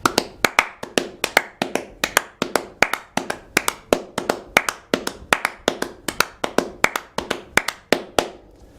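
Hands clapping a fast syncopated groove rhythm, sharp close claps in a repeating pattern of quick pairs and singles, alone and steady for several bars before stopping.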